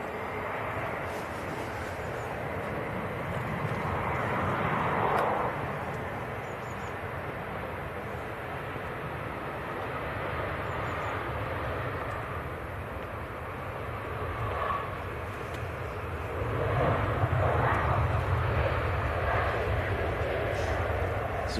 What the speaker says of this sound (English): Next aircraft to land just on short finals is EasyJet coming in from Belfast.